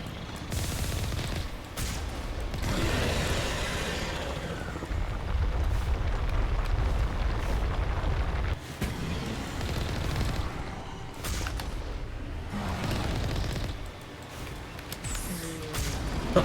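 Rockets exploding in the video game Mass Effect, a dense, continuous roar of blasts and gunfire with deep rumbling low end that swells and pulses for the whole stretch, loud and close.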